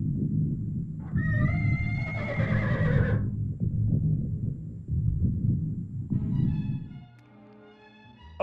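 A horse whinnies loudly in a film scene, a long wavering neigh over a dense, rumbling soundtrack, followed later by a brighter sustained tonal passage before the level drops.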